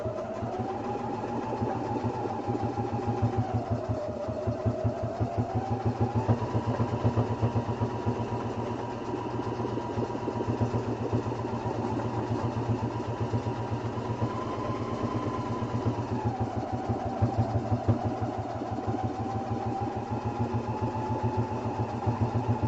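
A sewing machine stitches along a quilted duffel bag template, running in a long, steady, rapid needle rhythm close by, its motor hum rising and dipping slightly as the fabric is guided, with no talking.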